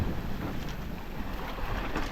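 Wind buffeting a sailboat at sea during a Transat race, a continuous loud rush of wind noise over the open water with no voices.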